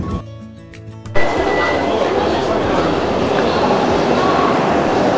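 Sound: Vande Bharat Express train running at speed

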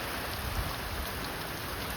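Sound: heavy rain falling

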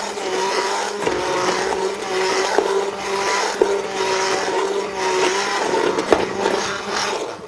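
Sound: immersion blender pureeing sunchoke and potato soup

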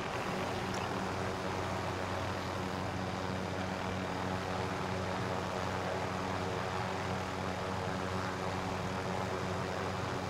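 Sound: helicopter flying in video game

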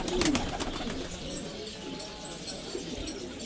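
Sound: fancy pigeons cooing

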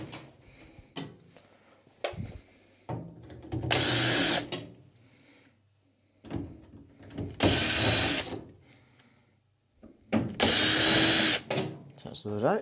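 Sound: power drill removing screws from incubator cabinet

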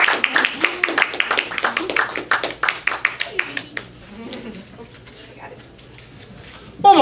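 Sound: audience clapping at open mic show

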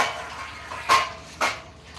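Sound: dishes clattering

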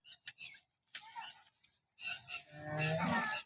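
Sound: cow in a cattle shed

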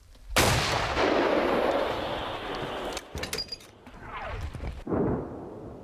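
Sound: artillery gun firing

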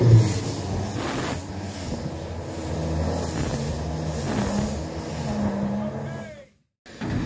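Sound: locomotive diesel engine being cranked over

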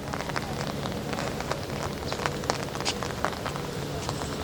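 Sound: light drizzle rain

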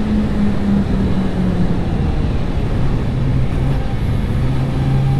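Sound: Suzuki GSX-R750 motorcycle engine, unsmooth throttle on track

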